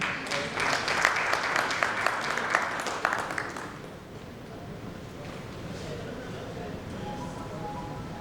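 An audience at a Mumbai infrastructure summit claps loudly for a few seconds, then the applause tapers off and only faint room noise and indistinct murmuring remain.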